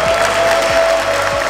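Audience applause at a street performance show in Hong Kong, a steady wash of clapping that fills the short moment from start to end, close and fairly loud.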